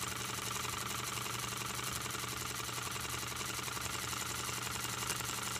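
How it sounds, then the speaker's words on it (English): A small homemade solenoid engine runs steadily, a continuous fast mechanical clatter and buzz at a constant pace, faint and close, with no talk. "This is a solenoid engine I made about a year ago."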